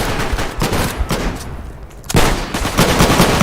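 Loud, dense video game gunfire fills the whole stretch with rapid automatic bursts and overlapping shots, thinning briefly midway before another heavy volley resumes.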